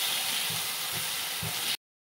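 Spice masala sizzles in a pan in a home kitchen, a loud continuous frying hiss with faint periodic low thumps, cutting off abruptly near the end.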